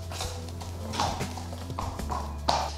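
A sensitive, emotional horse's hooves clip-clop on hard ground in a few irregular knocks, close and moderately faint over a low steady hum.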